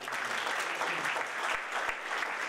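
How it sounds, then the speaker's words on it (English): Audience applause at a football stadium event honouring soldiers who went to war, a sustained, even roar of many hands clapping, heard from a distance without speech. "please give a big, big thank you and a big round of applause to Phil"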